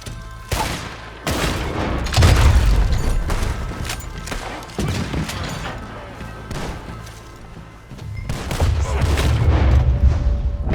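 Gunfire in Red Dead Redemption 2, with loud booming shots and bursts of rapid fire recurring across several seconds, heavy and close, with brief quieter gaps between volleys.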